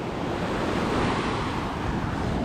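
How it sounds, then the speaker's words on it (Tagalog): Ocean surf washes steadily onto a beach, a dense continuous roar of breaking waves with wind buffeting the microphone, with no voices. "Ayan ang alon"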